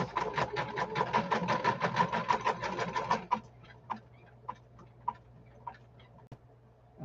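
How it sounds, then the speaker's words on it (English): Sewing machine stitching in fast, steady ticking bursts for about three seconds, then stopping, leaving a few sparse clicks and taps against a low background hum. "Why aren't you sewing it? There it goes."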